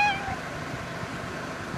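A single short kitten meow sounds at the very start in a countryside setting, then only quiet background hum remains.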